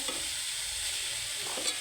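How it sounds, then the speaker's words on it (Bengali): Food fries in a pan with no water added and is stirred, giving a close, continuous sizzle with soft scraping and stirring sounds throughout. "নাড়াচাড়া করে দিব দেখছেন কোনো পানি অ্যাড করতে হয় না এখানে"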